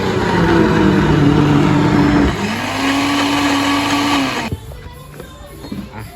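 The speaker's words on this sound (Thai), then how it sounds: "ใส่ข้าวเหนียวไปด้วย ปั่นไปด้วยกันนี่เลย" A blender runs loud and steady, pureeing vegetables together with sticky rice for a Thai vegetable drink, its motor pitch dropping and shifting midway before cutting off near the end, leaving quieter kitchen clatter.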